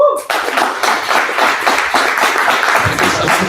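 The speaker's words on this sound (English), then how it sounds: "a big round of applause to all our panelists today" Close, loud clapping from a conference audience applauding the panelists at a robotics summit, brisk and sustained with a few voices mixed in.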